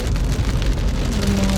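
Heavy downpour in Jeddah gives an even, loud rushing patter of rain on nearby surfaces, steady throughout, with a faint tonal hum rising underneath near the end.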